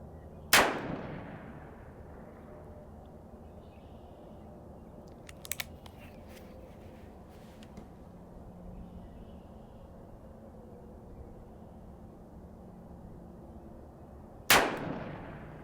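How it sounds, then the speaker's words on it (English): Two sharp, loud revolver shots from a Ruger Vaquero fired at a bullseye target, one near the start and one near the end, each with a short decaying ring, separated by quiet outdoor background with a few faint clicks. "Squeeze the trigger."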